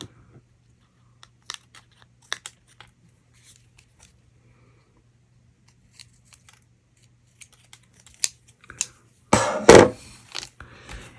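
Scissors trim paper along the edge of a card, a sparse series of small, dry snips and clicks scattered close up, ending in a louder burst of crinkling and cutting.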